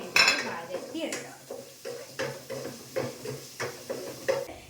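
Small onions sautéing in a pan for a fish curry, with a spoon scraping and clinking against the metal in a steady rhythm of about eight strokes over a faint sizzle.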